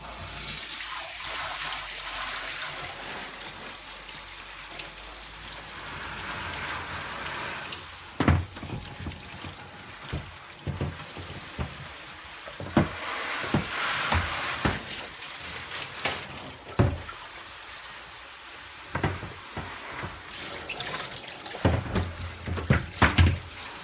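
Running water rinses an AEG tumble dryer condenser, a steady splashing hiss broken by intermittent knocks and clatters as the part is handled, all close by with no talk.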